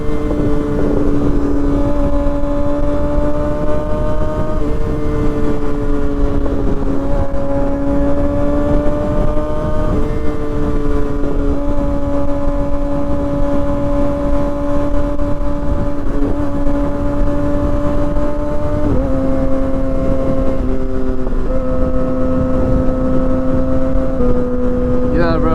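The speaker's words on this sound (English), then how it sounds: "Exhaust sounds so good, yo." A Kawasaki ZX6R motorcycle fitted with an M4 GP19 exhaust rides at steady speed, its engine droning loud and constant with wind rush and a few shifts in pitch as the rider changes gears.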